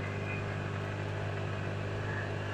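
SSR Bison 200 golf cart engine drones steadily under acceleration toward top speed, a constant close hum without voices.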